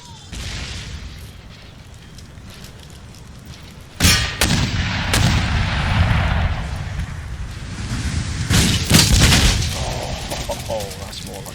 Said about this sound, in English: Give them a damn good pasting now with the artillery.